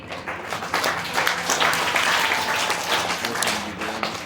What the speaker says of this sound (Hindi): हमारे प्रधान जी के लिए ताली बजा दो